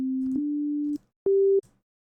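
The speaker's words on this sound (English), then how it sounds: "if you're not familiar with what a sine wave sounds like" Clean, unprocessed sine wave tones from a synthesizer: one steady pure pitch held for about a second, a short gap, then a slightly higher pure tone held briefly, loud and alone.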